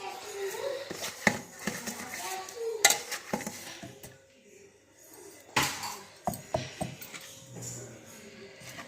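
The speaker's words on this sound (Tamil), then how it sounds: "இப்போ பூண்டு கருவேப்பிலை போட்டு அடிச்சாச்சுங்க" Garlic and curry leaves stirred in a pan while making pirandai pickle, with scattered clinks and scrapes of a utensil against metal, quiet sizzling underneath and brief stretches of near silence.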